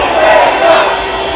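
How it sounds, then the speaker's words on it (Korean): Loud rally crowd roaring and cheering at a protest against the Fukushima contaminated water release, a sustained dense wall of voices with no clear individual words, steady throughout the short burst. "큰 함성과 박수로 이재명 대표에게 힘을 주시기 바랍니다"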